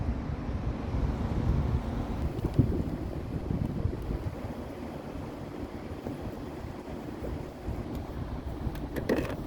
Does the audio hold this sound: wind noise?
yes